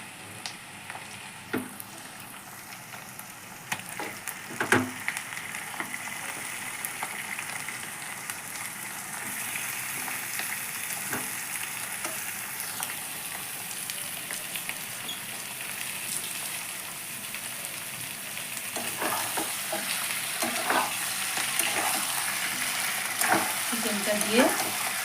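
Chicken pieces fry with ginger and garlic in a pan for chicken tehari, a continuous sizzle broken by clacks and scrapes of a stirring spoon, growing busier toward the end.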